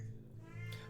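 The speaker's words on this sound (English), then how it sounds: "Iris, crazy cat" A cat meows once, close and fairly quiet, over a steady low background hum.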